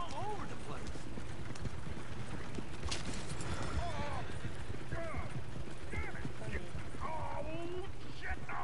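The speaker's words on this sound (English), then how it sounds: "Oh, shit! The horses!" Hooves clip-clop in a steady rapid rhythm as horses gallop through a video game scene, with a low engine-like drone and bursts of voices talking over them.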